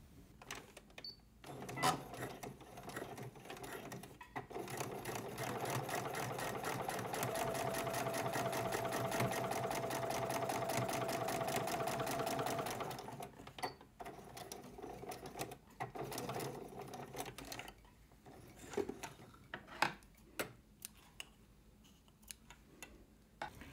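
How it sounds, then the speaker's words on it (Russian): A sewing machine runs a steady stitching burst along a frame-purse bag seam by the interfacing line, starting and stopping with short pauses and light handling clicks around it, close and fairly quiet with no talk. "И проложу строчку вдоль линии дублерина."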